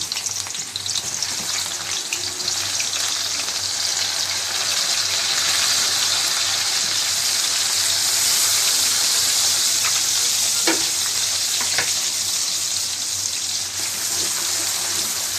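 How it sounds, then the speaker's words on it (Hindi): Sliced onions just dropped into hot oil for a lentil dish: a loud, dense, even sizzle that swells slightly and holds steady, with a couple of faint clinks near the end, close up and without voices. "प्याज को अच्छे से फ्राई कर लें।"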